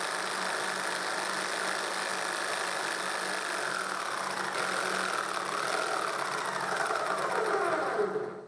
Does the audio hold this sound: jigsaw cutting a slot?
yes